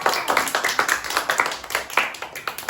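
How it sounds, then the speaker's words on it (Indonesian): A classroom of students claps for the winning group in a microteaching lesson, a brisk run of close, uneven hand claps over nearly three seconds. "Selamat untuk kelompok 2, kasih tepuk tangan."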